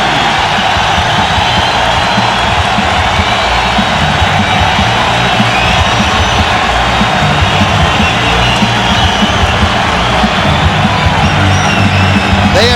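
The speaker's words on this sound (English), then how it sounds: "And listen to the crowd for Hideki Matsui." Opening-day crowd at a cold Yankee Stadium cheers warmly for batter Hideki Matsui as he comes up with the bases loaded against the Twins, a steady, broad roar of many voices with no clear peaks.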